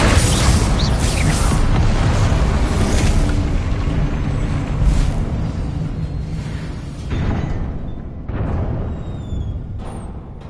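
A Confringo explosion spell going off in the video game Hogwarts Legacy: a loud blast with crackling, whooshing debris that slowly fades over a sustained rumble, with a couple of smaller pops near the end.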